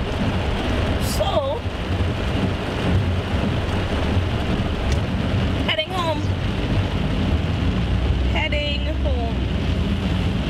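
Heavy tropical rain pours steadily during a severe thunderstorm in St. Vincent, a dense continuous roar with a brief voice speaking over it.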